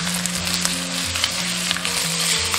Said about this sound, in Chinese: 锅中倒食用油，油热以后下入肉块，中小火煎